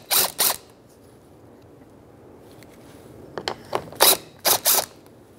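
A ratchet socket works 10mm-head plastic screws loose from the bumper of a 2013-2018 Toyota RAV4, giving short bursts of quick, crisp clicking close by, separated by quiet pauses, with several rapid bursts near the end.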